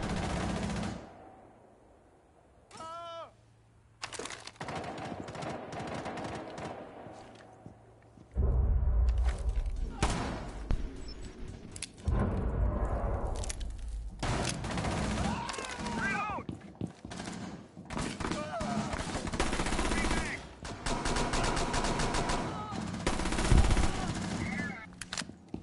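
Hand cannon fire in a first-person shooter video game, with bursts of loud close gunshots and rapid volleys mixed with game sound effects, other weapons and a voice over a busy, continuous battle soundscape.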